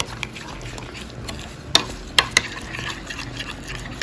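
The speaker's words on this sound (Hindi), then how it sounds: "मसालों को दही में मिक्स करूंगी।" Spices are stirred into yogurt with a spoon, soft wet squelching and scraping close by, punctuated by a few sharp taps of the spoon against the bowl.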